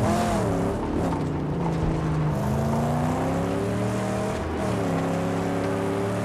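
A car in the Mad Max video game drives with a steady engine drone whose pitch rises and falls through gear changes, loud and continuous with no talk.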